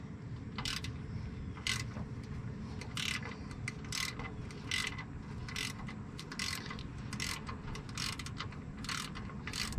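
A hand ratchet works loose nuts on a 2007 Freightliner truck, with repeated quick bursts of clicking pawl strokes close up, evenly spaced over a low steady background rumble.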